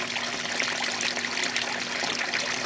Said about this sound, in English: we are coming into the home stretch of the fill on this one